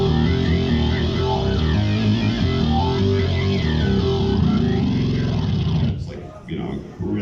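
A very low, heavy Korg keyboard sound played in a music shop, a thick sustained distorted drone with layered tones that holds for about six seconds before breaking off into a brief sputter and resuming.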